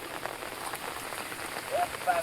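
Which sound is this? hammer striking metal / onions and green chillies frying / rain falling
rain falling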